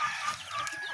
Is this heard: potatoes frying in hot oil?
no